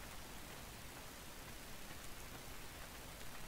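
Steady rain in the Ark Survival Evolved video game on The Island map, a dense, even hiss of falling drops with no talk, constant and moderately loud throughout.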